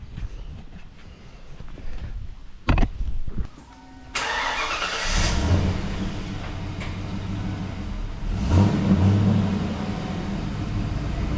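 A 1992 Ford Mustang Foxbody convertible in a garage: a few clunks, then the engine cranks and fires into a loud, steady idle before it rumbles slowly backward out of the garage, close by.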